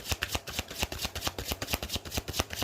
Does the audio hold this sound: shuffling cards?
yes